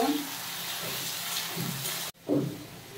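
Brinjal pieces fry in a pan with green chilli, giving a steady sizzling hiss that breaks off abruptly, then resumes more quietly as the eggplant is stirred.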